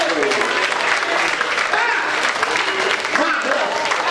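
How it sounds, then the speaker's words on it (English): A church congregation claps steadily and loudly throughout, a dense continuous applause with some voices mixed in. "Give the Lord a hand and clap that way."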